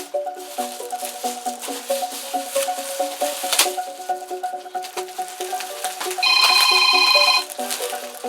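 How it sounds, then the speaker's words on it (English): A telephone rings nearby during an unboxing at home, a repeated electronic ringtone pattern in short chirping bursts, then a louder sustained tone near the end, with faint rustling and no talk. "Not answering that phone."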